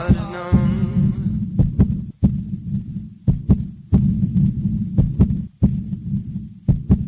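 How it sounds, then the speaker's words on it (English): A child's heartbeat thumps in a slow, regular throbbing rhythm, each beat a deep double pulse repeating about every second and a half, loud and close with a low murmuring hum between beats and no voices. "it's the actual heartbeat of a child in need"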